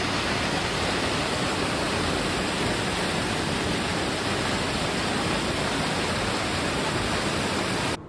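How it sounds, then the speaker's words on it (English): Cascading waterfall at Hanging Lake, Colorado, a steady, dense roar of falling water that holds evenly loud for the whole stretch with no voices. "the sights and sounds of cascading water"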